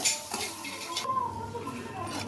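Lentils dry-roast in a pan for kaara chutney, heard as close metallic scraping and clinks of a spoon against the pan over a faint background, with no talk.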